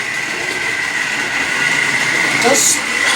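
An OO gauge class 08 model shunter locomotive runs around a layout, giving a steady whirring rumble with a faint rhythmic rail clatter, close and continuous for a few seconds, with a brief higher squeal near the end.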